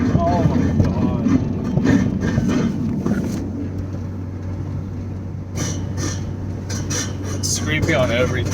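The Megan Racing exhaust muffler on a lowered car scrapes and grinds against the ground in rough, irregular rumbling bursts, close up, with a voice talking over it.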